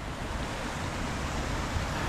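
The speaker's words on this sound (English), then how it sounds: "There's a waterfall." A mountain waterfall in a valley at sunset, heard as a steady, loud, broadband rush of falling water that continues without break and without voices.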